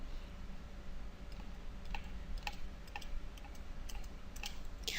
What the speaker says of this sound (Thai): เอาเมาส์ไปไว้ด้านหลังแล้วกด backspace